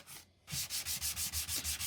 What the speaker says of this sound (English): Here I'm using a very simple homemade sanding block